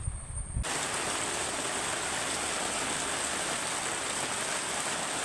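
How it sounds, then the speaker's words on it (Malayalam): Heavy rain falls steadily at home, a constant hissing wash of water that starts after a brief moment and continues unbroken, fairly soft and distant. "ഇവിടെ നല്ല മഴയാണ് കേട്ടോ"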